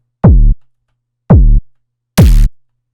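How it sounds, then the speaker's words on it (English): Three identical heavy dubstep bass hits built from a distorted sine wave layered with white noise, each a loud half-second burst with a sharp transient, evenly spaced with silence between, the last one noisier and brighter. "Like all this is a sine wave that's just being distorted, layered with a bunch of white noise."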